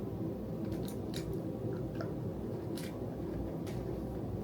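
Crunchy Lindt chocolate with bits of biscuit and wafer is chewed close to the mouth, with a few sharp crisp crunches over a quiet background and no talking.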